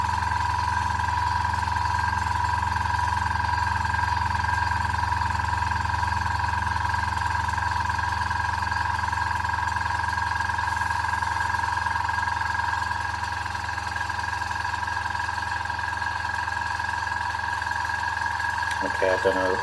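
An AS-186 airbrush compressor runs continuously while filling its empty tank, a steady close droning hum with a constant tone that holds unchanged throughout.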